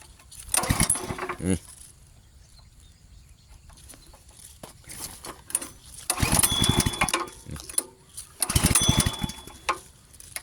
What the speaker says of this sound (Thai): สตาร์ทเครื่องก่อน เครื่องเย็น